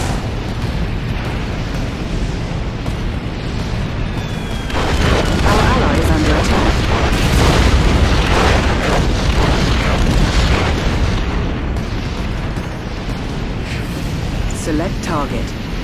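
A proton collider superweapon blast in Red Alert 3, a loud roaring explosion swelling midway over a dense rumbling battle din, with game voices talking over it.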